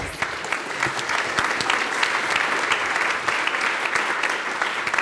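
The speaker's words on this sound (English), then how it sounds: "a round of applause" Sustained applause from an audience, steady dense clapping across the whole stretch with no voices breaking through.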